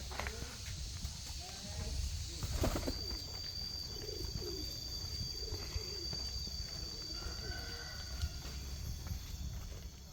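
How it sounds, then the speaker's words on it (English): Pigeon cooing in a Malang, Indonesia jungle, soft low coos repeating over steady insect and forest ambience, with a loud rustle near the start. "Some upgraded pigeon."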